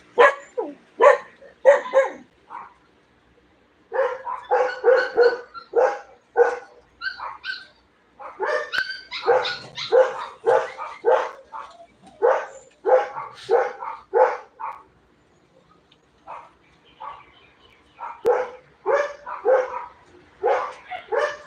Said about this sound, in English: So you can hear a big dog barking and a small dog barking from our neighbor.